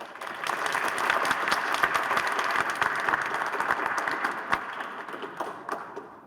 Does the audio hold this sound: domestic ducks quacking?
no